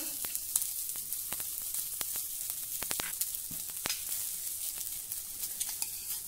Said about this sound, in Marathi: थोडं तेल घालू आणि हे भेंडीचे दाणे देखील व्यवस्थित भाजून घेऊ